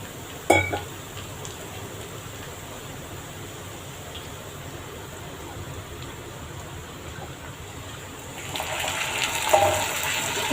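A short clink of metal, then a quiet pause before a little water pours briefly into a pan of cooking vegetables near the end.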